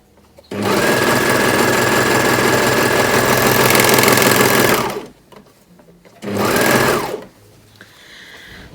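Sewing machine stitching a dart in a plus-size dressing gown, a loud close whir running steadily for about four seconds, then a pause and a second shorter burst.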